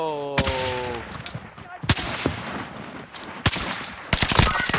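Gunfire in the Call of Duty: Modern Warfare video game: scattered sharp shots spaced apart, then a denser cluster at the end, with faint game voices and background noise between the shots.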